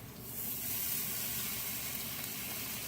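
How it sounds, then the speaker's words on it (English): Chicken stock hits a hot pan and bursts into a loud, steady sizzle that hisses continuously with no voices. "now I'm going to add in chicken stock"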